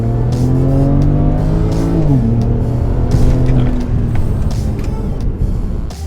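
A tuned BMW 335i with the N54 turbo engine revs hard and climbs in pitch during a 0-100 km/h run, shifts gear abruptly, then keeps pulling loudly up close.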